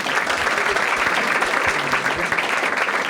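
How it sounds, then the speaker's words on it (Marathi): A stand-up comedy audience claps loudly for a couple, a dense burst of applause lasting a few seconds. "ठीक आहे, दोघांसाठी टाळ्या वाजवा."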